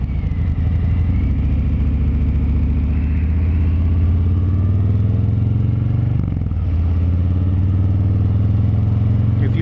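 A motorcycle engine rumbles steadily and loudly while downshifting with the clutch let out slowly, its low tone sliding downward and then shifting again with no talk over it.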